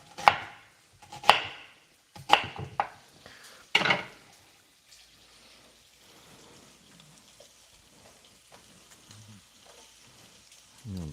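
Onions being sliced lengthwise with a knife on a cutting board in a home kitchen: about five sharp, close chops in the first four seconds, then quieter faint scraping and handling sounds.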